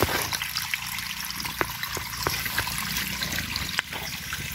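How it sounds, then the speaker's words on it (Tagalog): A small creek serving as a water source on a rural property flows steadily close by, a continuous rushing babble with occasional splashy trickles over it. "Ito po yung sapa na sinasabi ko sa inyo na source po ng tubig."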